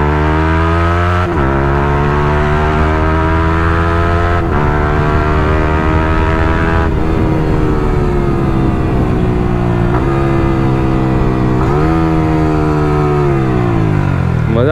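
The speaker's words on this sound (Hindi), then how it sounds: "क्लचलेस डाउनशिफ्ट पे आवाज सुनना" A Yamaha YZF-R15 V3 motorcycle with a chopped Akrapovic exhaust revs hard and loud up close, climbing and dropping through clutchless downshifts in repeated rising and falling sweeps.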